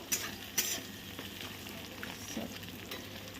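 Eggs sizzling in a pan while being stirred for fried rice, a soft steady frying hiss with a couple of sharp utensil clinks and scraping, fairly quiet.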